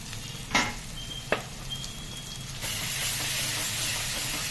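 Masala frying with salt, turmeric and yogurt for egg dum biryani, a couple of sharp clinks followed by a steady hiss and sizzle that jumps louder as the yogurt hits the pan.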